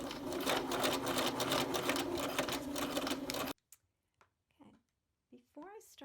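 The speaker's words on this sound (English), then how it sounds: "going to sew a second line of gathering thread, basting stitches with that" A sewing machine runs steadily, stitching long basting stitches to gather a fabric ruffle for a girl's dress, then stops abruptly, leaving near silence broken by brief soft sounds and a few spoken words.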